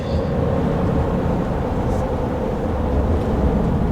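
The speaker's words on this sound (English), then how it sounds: "Now we gotta check out this exhaust brake." A steady, loud diesel engine rumble with a low, even drone from a 2024 RAM 3500 Rocky Ridge pickup's exhaust brake, continuous for a few seconds with no voices.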